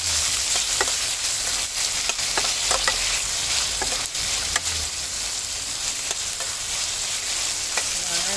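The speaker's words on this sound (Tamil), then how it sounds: "வெங்காயம் நிறைய போட்டுக்கோங்க" Onions sautéing in a pan for potato-free puri masala give a steady, loud sizzle, with scattered clicks of a spoon stirring throughout and no voices.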